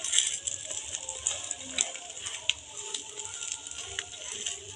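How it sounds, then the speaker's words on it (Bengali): Egg-coated roti rolls fry in a pan, a steady bright sizzle and crackle with scattered small pops, close and fairly quiet, without talk. "এটা একটু লাল করে আমি ভেজে নিচ্ছি।"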